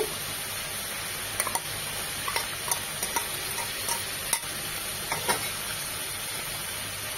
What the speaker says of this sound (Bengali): আদা রসুনের সাথে চিকেনটাকে ভালোভাবে কষিয়ে নেব